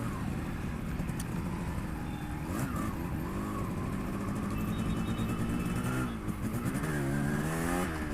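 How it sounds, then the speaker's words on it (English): A customised Yamaha RX 100 converted to a parallel twin is ridden, its engine droning steadily under wind noise, with rising and falling revs through gear changes, heard close from the rider's position. "Now let's ride this motorcycle and check the power"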